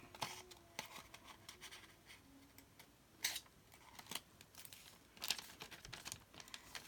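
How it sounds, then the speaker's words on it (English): Scissors trim printed tracing paper, giving quiet, close snips and crisp paper crinkles scattered irregularly over a faint background, with a few sharper cuts standing out. "Okay, now trim off this bit."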